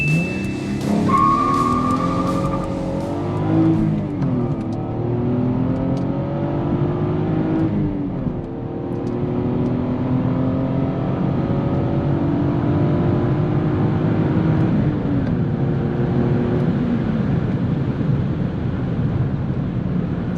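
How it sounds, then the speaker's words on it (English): A manual Lexus IS300 with a five-speed gearbox launches hard in first gear, its engine revving loudly and climbing steadily in pitch, close and continuous with no talking. "Let's kind of launch it here in first gear and see what it will do. Let's try to get a little bit of wheel spin."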